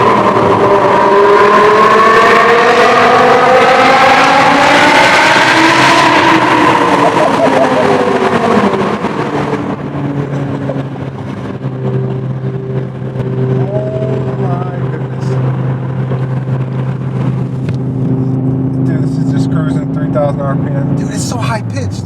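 A manual BMW M5 E60 with a V10 and a loud F1-style exhaust revs hard, its high-pitched wail rising and falling before settling into a lower, steady drone while cruising, with someone talking over it.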